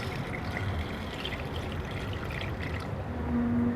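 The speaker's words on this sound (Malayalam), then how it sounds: "ഞാനിനി പാൽ ഇതിലോട്ട് ഒഴിക്കാം" Milk pours steadily into a blender jar for a ripe jackfruit shake, a soft continuous trickle and splash close by with little else around.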